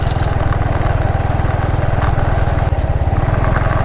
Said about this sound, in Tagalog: kasama ko si Blue magmumotor tayo papunta doon